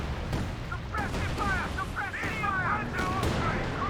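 Tank fire pounds a Panther in a Company of Heroes 2 battle, a dense, steady rumble of battle noise with warbling tones laid over it and a commentator talking throughout.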